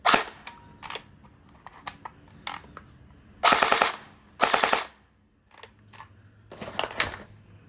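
An ARP9 gel blaster rifle with a small blowback action fires sharp close bursts of rapid snapping shots, some short and some sustained for about a second, separated by brief gaps and softer mechanical clicks.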